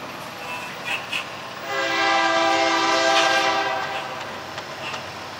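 A Norfolk Southern freight train passes in Austell, Georgia, its horn sounding one long loud chord that swells and holds for a few seconds, with rail noise beneath and brief voices nearby.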